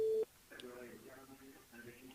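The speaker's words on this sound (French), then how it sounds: "On appelle Amanda du côté de la rivière." A phone line rings out on a French-language live radio call-in show: one short steady tone at the start, then a host speaking over faint background music.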